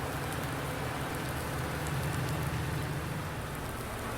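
Steady, dense rain in Farming Simulator 19 patters continuously on a hard surface, a constant wash of droplets with a low rumble underneath and no voices.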